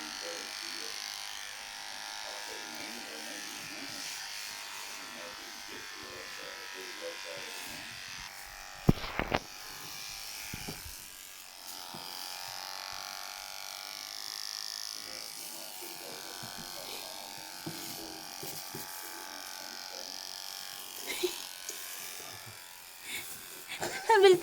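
An electric hair clipper buzzes steadily as a father cuts a baby's hair at home, a faint continuous hum running under soft talk, with a few brief clattering bumps along the way.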